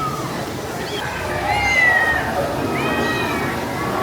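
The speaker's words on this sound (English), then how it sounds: "Up here you can hear the cats meowing." Cats meowing at Islands of Adventure theme park: a few rising, drawn-out meows cut through a busy outdoor crowd din, with people chattering nearby.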